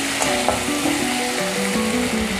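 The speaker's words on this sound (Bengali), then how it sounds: "এবার আমি টমেটো কুচিটা দিয়ে দেব, দিয়ে নরম হওয়া পর্যন্ত আমি কষতে থাকব।" Chopped tomato fries in hot oil in a pan while being stirred for a fish curry, giving a steady, close sizzle and crackle with no one speaking.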